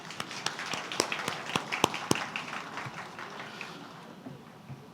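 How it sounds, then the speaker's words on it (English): Scattered hand claps from a small audience at a candidates' election speech event, a few sharp claps bunching early and then thinning out into a quieter room. "Can we please have a round of applause for them?"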